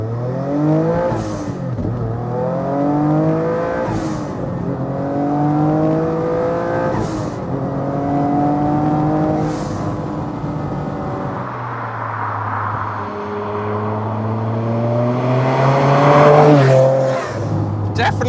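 A Noble M12 3R sports car pulls hard through the gears, its engine note climbing in repeated loud sweeps with brief dips at each shift, close and dominant, with someone talking over it.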